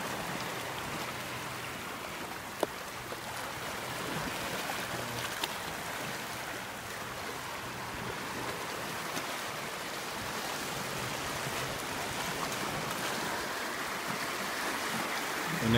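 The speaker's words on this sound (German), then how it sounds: "schöne Wellen" Sea waves washing over a rocky shore in Cyprus, a steady close rush of water and spray with no pauses, fairly loud and alone without talk.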